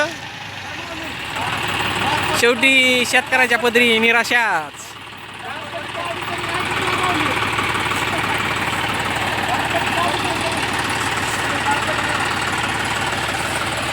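A farm tractor's engine idles and rumbles steadily while the tractor sits stuck in a muddy field in the rainy season, with a loud person speaking over the engine early on.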